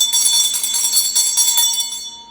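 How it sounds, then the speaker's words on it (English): A bright bell rings with a clear ringing tone, struck several times in quick succession, then the tone fades out near the end; close and loud, with no voices. "Let's ring the bell."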